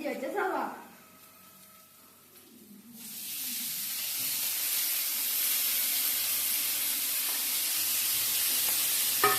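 Ginger, garlic and onion fry in hot ghee in a pan for pasta, a steady loud sizzle swelling up after a brief clatter and lasting to the end, with a voice speaking over the start.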